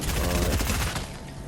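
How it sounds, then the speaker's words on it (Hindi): Shotgun fire in the Fortnite video game comes as a loud, close burst of rapid blasts packed into about a second, then fading off with no talk. "इसको मैं शॉटगन से मार देता हूँ"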